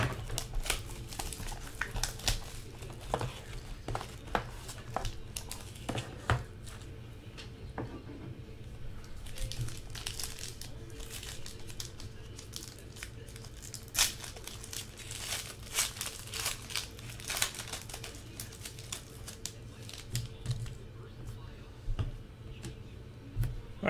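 Packs of 2011 Prime Signatures football cards are slit open with a knife and unwrapped, giving a long stretch of close crinkling, crackling and light ticking at a soft, uneven level, with no talking.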